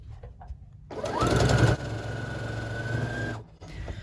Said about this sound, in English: So I'm just gonna keep sewing these all the way through